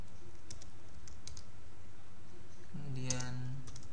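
Command typed on a computer keyboard, a few light key clicks close by over quiet room tone, ending in a slightly louder cluster of taps.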